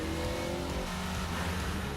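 A car engine with variable intake and exhaust valve timing roars steadily as the car accelerates, a loud, sustained engine drone that holds at full throttle for about two seconds with no talk.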